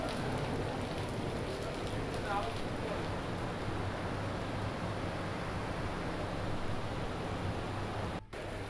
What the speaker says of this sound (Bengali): বজ্র বিদ্যুৎ সহ ভারী বৃষ্টি